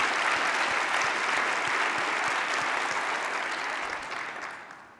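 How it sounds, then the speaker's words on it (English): Audience applause at a health presentation on cholesterol and ApoB: a dense, steady burst of many hands clapping that holds strong for several seconds and then tapers off near the end. "Please give them a big round of applause."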